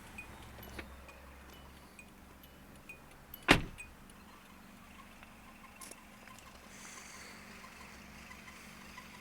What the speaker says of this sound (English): Your driver's side window is automatic, one touch down.